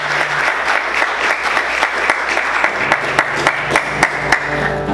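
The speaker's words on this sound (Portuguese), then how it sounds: "Mais forte as palmas" Church congregation clapping together during a Sunday morning service, steady sustained applause with many hands close by, a few sharper claps standing out and a faint voice underneath.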